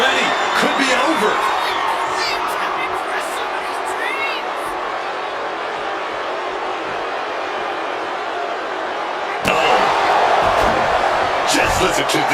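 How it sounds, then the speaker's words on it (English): A roaring arena crowd at a WWE wrestling video game match keeps up a dense, steady wash of cheers and whoops throughout, swelling louder near the end, while a commentator talks over it. "Just listen to this crowd."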